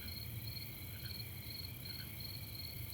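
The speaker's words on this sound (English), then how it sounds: "just get used to the sound of crickets" Steady chorus of crickets chirping in a continuous, even pulse, with faint low background rumble and no voices.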